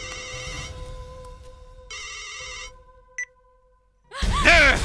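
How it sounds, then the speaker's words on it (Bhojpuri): A phone ringtone sounds as a call is placed, two bursts of electronic ringing separated by a pause, followed by a short beep. A voice then breaks in loudly at the end. "ए फोन लगा के दे देख आशिक भैया।"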